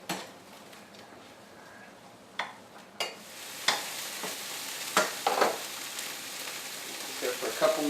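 Onions sweating in a pan for beef stroganoff, with a soft, steady sizzle under scattered sharp scrapes and taps of a utensil stirring against the pan.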